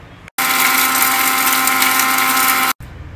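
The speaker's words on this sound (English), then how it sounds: "we are going to first grind it into smaller pieces in this jar" An electric mixer grinder jar grinds spices into smaller pieces in one loud, steady whirring burst of about two and a half seconds that starts and stops abruptly.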